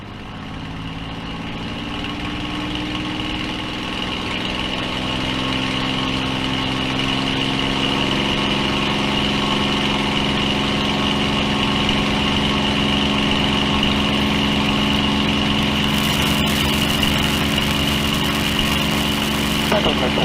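A Supermarine Spitfire ML407's piston engine roars loud and steady through its takeoff run, a dense, continuous drone with strong low harmonics that holds unbroken from start to finish and drowns everything else.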